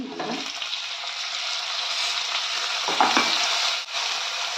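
Tomato goes into reddish fried onions for gongura chicken and fries with a steady, dense hiss, close and even, with a brief stir or clatter partway through and no talking.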